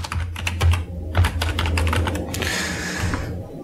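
Rapid, close keystrokes on a computer keyboard type a search for WordPress Elementor page templates, a quick patter of clicks followed by a brief softer rustle.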